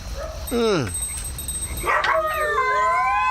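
Dogs bark and yelp at night, then break into rising, wavering howls that overlap and stretch on, loud and close, with a murmur of voices beneath.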